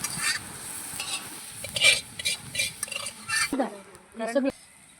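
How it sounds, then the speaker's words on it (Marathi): Marinated chicken tipped into a pot and stirred over a village-style wood-fired stove, with soft sizzling and scraping stirs that pause, then a few clinks of a utensil against the pot near the end. "आता मॅरिनेशन केलेलं जे चिकन आहे आपलं ते याच्यामध्ये टाकून घेऊया"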